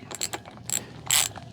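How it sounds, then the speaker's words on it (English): A ratchet wrench clicks while loosening a 17mm rim lock nut on a motorcycle wheel, a few quick close ratcheting bursts with one longer, louder grinding click sequence. "now we're going to loosen this 17mm"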